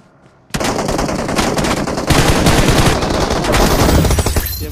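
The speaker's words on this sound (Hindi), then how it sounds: "गोली चलाई मोनू ने।" Rapid automatic gunfire from a battle royale video game crashes in suddenly after a quiet moment and keeps going in dense, loud bursts that grow heavier toward the end, with no talk over it.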